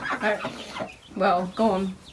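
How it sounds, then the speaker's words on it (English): Domestic ducks in a farm pen give a few loud quacks in two separate bursts, close by, with a quiet gap between them. "Ducks are over here."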